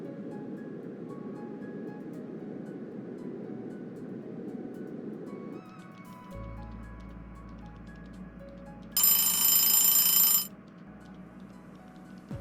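A doorbell rings once inside a house, a bright, sustained electronic tone lasting about a second and a half that cuts over a quiet indoor background hum.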